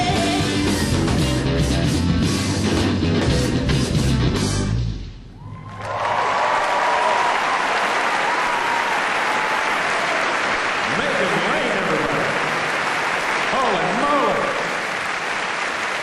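Audience at a televised Saskatchewan centennial celebration bursts into loud sustained applause with cheering as a song ends, the clapping continuing steadily for over ten seconds after the music fades.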